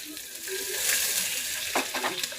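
Curry leaves and onion sizzle in hot oil in a pan, a steady close frying hiss with brief stirring clinks near the end.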